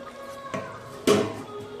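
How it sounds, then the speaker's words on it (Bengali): A lid goes onto a cooking pot with two metallic clinks, a soft knock and then a sharper, louder clatter, close by against faint background music. "আবার একটু ঢেকে দেবো বন্ধুরা"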